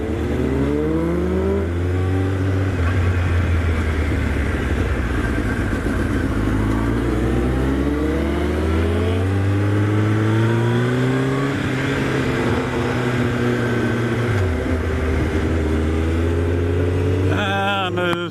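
A car engine drones loudly and continuously while driving, its pitch climbing repeatedly through gear changes as it accelerates, heard close from inside the vehicle.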